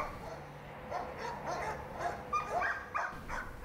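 A police dog whimpers and yips in short bursts during agility testing with Queensland Corrective Services, moderately close over a faint outdoor background.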